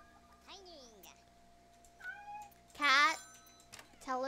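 Cartoonish cat meows in the Headbangers Rhythm Royale video game, three or four short separate mews with pauses between, clear and fairly close over a quiet background.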